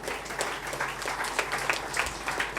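An audience at a community felicitation and talent award ceremony breaks into sustained, moderately loud scattered clapping for participants, continuing steadily without talk.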